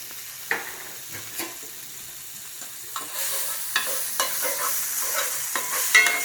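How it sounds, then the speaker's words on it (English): Onions sautéing in a cast iron pan for a brunch dish: a steady sizzle that grows louder partway through, broken by repeated scraping and stirring taps close up. "we're going to start sauteing our onions"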